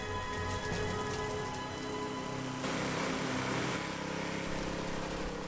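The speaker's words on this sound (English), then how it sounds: "I've just clicked it onto mulch mode just to show you how well this mower mulches." A Honda 537 lawn mower set to mulch mode runs continuously while clearing leaves, a loud steady roar that shifts to a fuller, harsher tone partway through.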